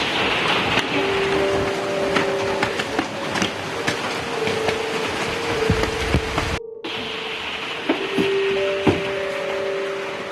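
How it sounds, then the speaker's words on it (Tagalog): Heavy rain pours steadily nearby with a dense hiss, broken by scattered knocks and a faint sustained tone, with no one talking. "Kasi medyo malakas yung ulan."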